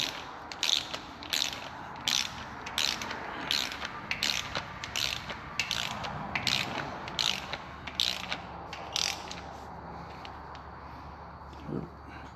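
A ratchet torque wrench tightens intake manifold bolts on a 2013-2014 Ford F-150 3.5 EcoBoost engine, with brisk clicking ratchet bursts repeating in a steady rhythm close up.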